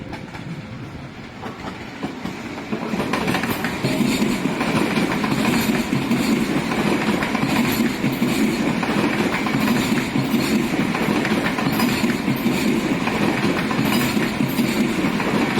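A high-speed double-headed multiple-unit train from Shenzhen North arrives at Nanchang station, its steady loud rumble and rail clatter building after a few seconds and holding close and continuous, with no talk.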